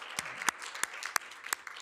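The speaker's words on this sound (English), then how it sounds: "So let's give a round of applause" Sparse applause for public safety at a virtual city address, a handful of distinct, separate claps spaced irregularly, quiet and close with no crowd behind them.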